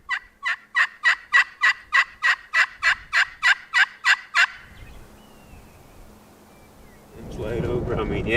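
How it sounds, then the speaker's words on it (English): A rapid series of about thirteen loud wild turkey gobbles from roosting birds, evenly spaced, on public land in Nebraska, followed by quiet outdoor ambience and then rising wind noise. "they're turkeys roosting out here in this little bottom"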